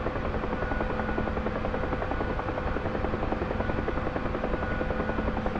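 UH-1 Huey helicopter in the DCS flight simulator, a steady loud rotor thump and turbine drone heard from inside the cabin, continuous and unchanging.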